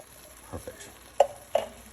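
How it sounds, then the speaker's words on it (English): A quick stir of canned pinto beans in a hot pan, a couple of soft scraping strokes followed by two sharper taps against the pan, close and fairly quiet. "Give that a quick stir."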